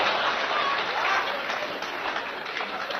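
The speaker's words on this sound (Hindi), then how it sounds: "इस स्कीम पर तो बुजुर्गों ने सबसे ज्यादा तालियां बजाई" An audience at a Hindi kavi sammelan comedy poetry event breaks into sustained applause, a dense, loud wash of many hands clapping at once with no pauses.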